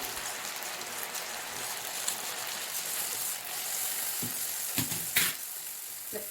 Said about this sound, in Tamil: இனி வந்து எண்ணெயில் போட்டுக்கலாம்.